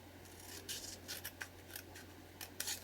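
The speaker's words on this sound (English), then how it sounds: "or hand cut out letters in this way before" Scissors snip through paper while letters are cut out by hand for an art journal page, giving a run of close, crisp, rustling cuts in short irregular bursts over a quiet room.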